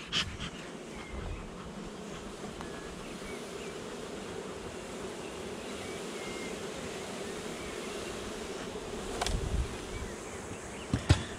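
A honeybee colony in a garden apiary buzzes during a May hive inspection, a faint, steady hum with a few brief knocks and clicks near the end.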